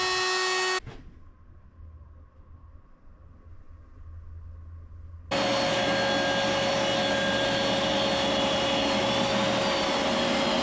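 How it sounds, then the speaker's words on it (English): A router riding on a router sled flattens an end grain cutting board of maple, cherry and walnut, starting with a loud whine, dropping to a low hum, then roaring steadily as it cuts, close and loud. "the router sled is a much safer method to use when you're trying to avoid tear out on your end grain cutting board"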